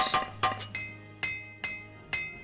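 Repair hammer in the Morrowind video game clinking against gear, about six sharp metallic strikes with bright ringing tails, evenly spaced and alone, no talk.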